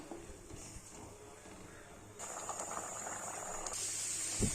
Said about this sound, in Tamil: இதெல்லாம் நல்லா கொதிச்சிடுச்சு.